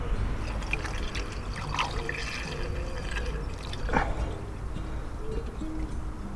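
Engine flush additive poured into a 2007 Ford Focus engine, a soft steady trickle of liquid over a low background hum, heard alone without talk.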